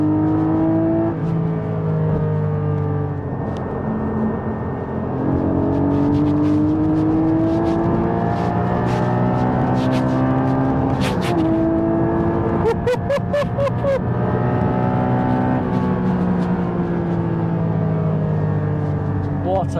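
A 2022 Porsche GT4 cruises and accelerates on a motorway, its engine note loud and continuous with rising and falling revs over road roar, and someone talks in the cabin.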